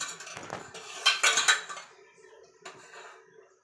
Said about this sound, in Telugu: ఇంకా గిన్నె పెట్టుకొని దీంట్లో ఆయిల్ వేస్తాం చూడండి